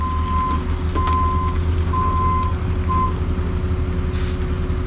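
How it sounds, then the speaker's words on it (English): A dump truck hauling dirt on a soil remediation job backs in, its reversing alarm giving four spaced steady beeps over a loud idling diesel rumble, then a short sharp air-brake hiss near the end. "We will now back in our 5th truck."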